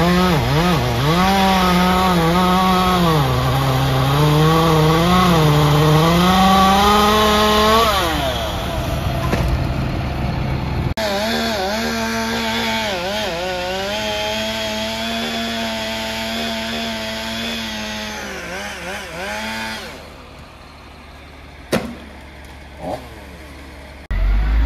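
A chainsaw cuts up the branches of a felled tree, its engine loud and close with a rising and falling pitch as it bites into the wood, then it eases to a lower idle and ends with a few sharp knocks.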